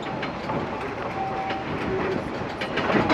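A narrow gauge train at Roaring Camp Railroad backs about 70 tons of cars up a 10.5% grade, rumbling and rattling steadily with a constant low mechanical roar and faint clanking, moderately loud and continuous.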